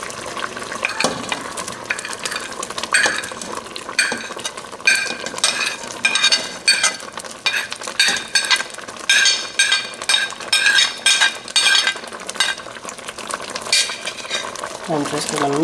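Groundnut soup with blended nuts is stirred in a pot over medium heat, with repeated scraping and clinking of a spoon against the pot's sides above a low bubbling sizzle, loud and close.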